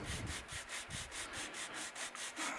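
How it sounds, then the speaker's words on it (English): Steady back-and-forth rasping of a sanding block on a wooden guitar body, repeated in a regular rhythm of quick strokes, close up and alone. "So I take a sanding block"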